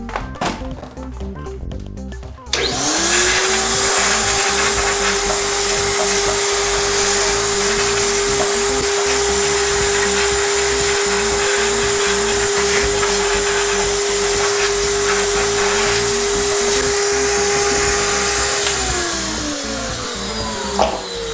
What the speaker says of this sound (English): So I'm gonna pull out my handy dandy vacuum cleaner.